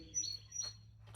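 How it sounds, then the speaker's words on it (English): A small bird outdoors chirps in a few quick, thin high tweets, faint and somewhat distant, with no voices. "that bird's gonna drive me crazy"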